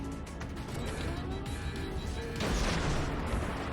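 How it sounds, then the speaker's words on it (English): High-explosive shells fire from a cruiser at an enemy ship in World of Warships, heavy booming salvos and crashing impacts layered over continuous battle rumble, loud and dense without voices. "Now I switch to HE just to test if I can maybe set him on fire."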